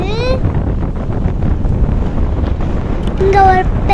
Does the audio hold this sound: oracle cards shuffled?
no